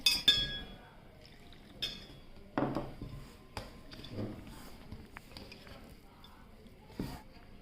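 Water is poured into rice flour in a bowl while mixing thattai vadai dough. Scattered clinks and knocks of the vessel come with soft liquid sounds, faint speech sits underneath, and one louder splash comes partway through.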